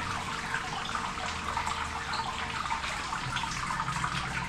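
Sparge water pours steadily over the grain bed in a Brewtools brewing system, a continuous close, full splashing wash of liquid with no talking.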